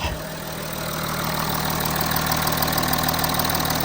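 A 2012-era Audi A6 C7 3.0 TDI diesel idling with freshly installed injectors, a loud, steady, close rumble with a faint knocking clatter throughout.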